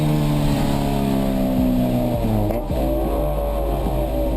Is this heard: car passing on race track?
yes